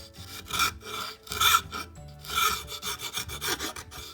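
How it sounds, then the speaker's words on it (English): A hand file rasps across a wooden slingshot handle in short repeated strokes, close and fairly quiet, about seven passes with brief pauses between them and no talking. "Now I'm gonna go ahead and use the file that I just used the lathe for to make this nice handle"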